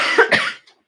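A single short cough with two quick bursts, close and fairly loud, followed by a faint breathy tail and then silence.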